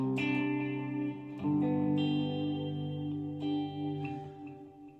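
Guitar chords played through stereo delay and reverb pedals on a pedalboard, each strum ringing out with trailing echoes and a wash of reverb, a few fresh chords struck across the passage with no talking.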